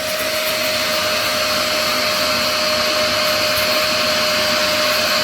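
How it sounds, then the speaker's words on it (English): A couch-cleaning extraction machine's vacuum sucks up dirty water with a loud, steady roar and a constant whine, unbroken for several seconds with no voices. "And this bit here is the vacuum."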